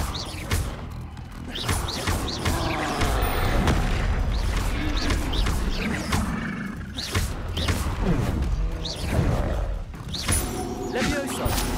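Confringo explosive spells blast repeatedly during Hogwarts Legacy gameplay. Deep booms and crackling bursts come one after another over a dense, continuous game soundscape.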